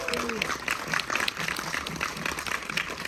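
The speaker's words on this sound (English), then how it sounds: "So how about a round of applause for the world premiere?" Audience applause at an anime film world premiere on a Hollywood event stage, a crowd clapping steadily while a voice speaks over it.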